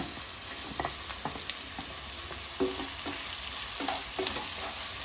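Tomatoes frying in a pan for bread masala, a soft continuous sizzle under scattered spatula scrapes and stirring taps, fairly quiet and steady with no voices.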